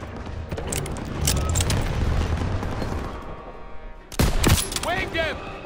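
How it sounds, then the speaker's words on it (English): Rapid bursts of World War II rifle and machine-gun fire in the Call of Duty: WWII campaign echo through a town street, with heavy booms and crackling volleys, followed by a sharp close blast and shouted voices. "They're taking fire from behind!"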